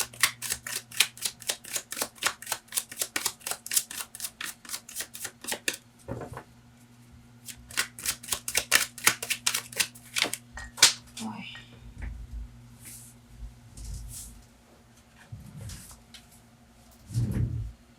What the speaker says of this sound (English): let's get another oracle card